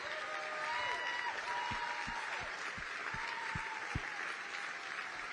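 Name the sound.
audience round of applause for veterans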